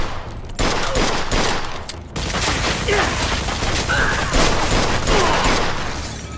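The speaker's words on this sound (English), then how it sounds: "They're shooting at me, for Christ's sakes." Sustained gunfire from a shootout in the video game Mafia II, a continuous crackling fusillade of shots over several seconds with occasional louder reports.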